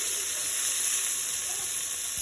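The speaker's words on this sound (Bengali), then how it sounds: "এখন আমি মাছ দিয়ে দিচ্ছি ভাজার জন্য।" Small cut pieces of snakehead fish fry in oil, producing a continuous, even sizzling hiss at moderate volume, alone without talk.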